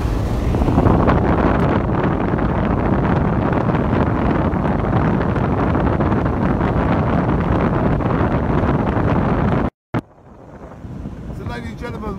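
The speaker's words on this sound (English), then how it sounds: "we are driving through the immense mist" A vehicle driving through thick mist in Spain gives a constant loud rumble of road and wind noise, broken by a brief dropout near the end before the steady roar returns.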